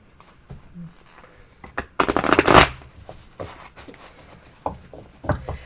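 Tarot cards being shuffled by hand, a burst of rapid riffling flutter in the middle with scattered soft taps and card slides before and after, close and fairly loud, no speech over it.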